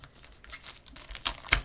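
Plastic craft kit package for a paper card project being pried open with a pen cap: a short burst of crinkling and tearing with two sharper snaps near the end, close and fairly quiet, no talk.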